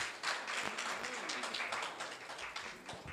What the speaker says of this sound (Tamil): இரண்டு பேருக்குமே ஒரு கைத்தட்டலாம்